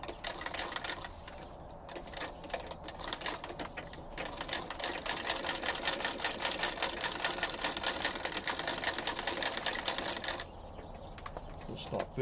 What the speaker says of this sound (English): on a treadle sewing machine, it's very tricky and very important to get your rotation going in the correct direction